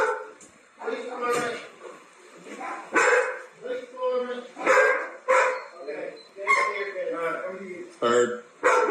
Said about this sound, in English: Yeah, dogs are there.